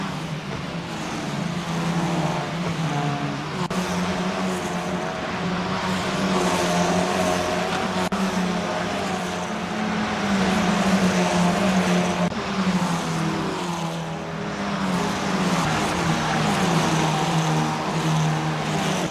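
Formula 4 race cars lapping Bathurst in Assetto Corsa, a dense, continuous roar of several engines revving and shifting together, loud and sustained with occasional gear changes and cars passing.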